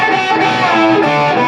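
A distorted electric guitar plays a lead line, with sustained, gritty notes moving across two strings. The playing is close, loud and continuous, with no talking.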